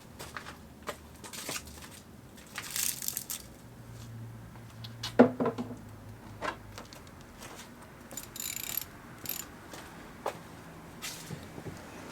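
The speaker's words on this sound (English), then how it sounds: "first we're going to take off this forced air duct, which is very easy" Plastic forced-air intake duct on a 2020 Hyundai Sonata 1.6T, with two pop-in plugs, being pulled off: close scattered clicks, snaps and rustling plastic handling, with a brief sharper pop partway through and no talking.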